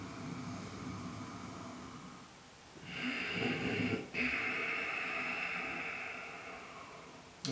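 A slow, raspy ujjayi breath drawn through a narrowed throat, swelling into a long hoarse rush of air with a brief break midway, fairly close.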